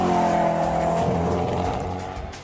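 A lightweight, road-legal series-production hypercar roars past at speed, its engine note loud and close and falling in pitch as it passes, with a faint tyre hiss near the end.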